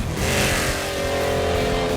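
A Porsche 911's rear-mounted six-cylinder boxer engine revs loudly and close by, a strong sustained harmonic roar holding steady before cutting off.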